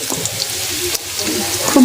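Drumstick flower fritters fry in hot oil, a soft crackling sizzle with occasional stirring or turning noises, moderately close and with no speech over it.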